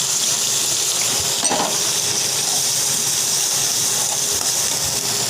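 Coconut paste, bay leaf and green chili frying in a pan for a water lily and shrimp dish, a steady loud sizzle and hiss with faint stirring scrapes, no talk.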